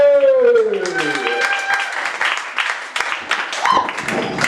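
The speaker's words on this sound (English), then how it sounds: "clap your hands, stomp your feet, give it up for Robbie!" A crowd at a poetry open mic slam claps and cheers steadily, a dense continuous wash of applause with whoops, starting under the host's voice and carrying on loudly for several seconds.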